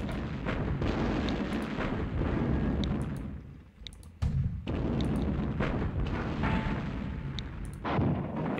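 Artillery fire in the Sudden Strike war game: dense, continuous rumbling booms and blasts, with a brief dip in the middle before the barrage resumes at full loudness.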